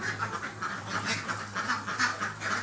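A mixed farm flock of laying ducks and Barbary ducks quack repeatedly and close by, a steady run of overlapping calls with no talking.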